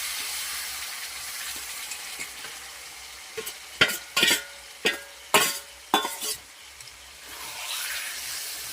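Marinated chicken frying in a pan for chicken bhuna: a soft continuous sizzle with several sharp clattering stirs of a spoon in the middle, close by, and no talk.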